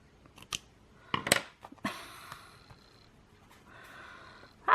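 Scissors snip through a craft piece in a few quick close cuts, sharp crisp snips separated by short pauses and faint handling rustle.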